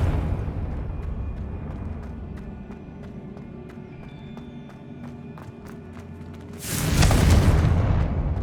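A Confringo blasting spell explodes in the Hogwarts Legacy video game, a sudden loud burst near the end that follows a steady rumbling game soundscape with rhythmic ticking impacts.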